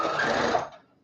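A sewing machine runs a basting stitch on dress fabric in one steady close whir for about half a second, then slows and stops.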